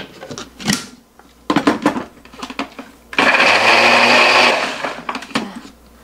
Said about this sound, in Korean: 이걸 먼저 갈아줄게요.